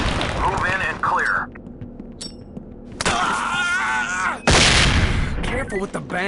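Loud bursts and bangs erupt in SWAT 4 as flashbang grenades go off during a room entry, several sharp, broadband blasts separated by brief pauses, with radio chatter between them.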